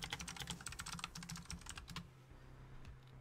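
Quick bursts of keystrokes on a computer keyboard, clicking in irregular rapid runs for about two seconds, then trailing off into a quieter pause with only a few stray taps, close and fairly soft.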